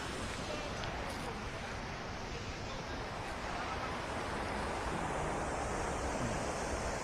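Continuous roar of a waterfall in the Western Ghats near Nethravathi Peak, a dense, steady rush of falling water heard from nearby with faint background voices.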